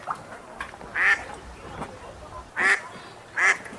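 A duck quacks three times, loud and close, with short separated calls over a quiet background.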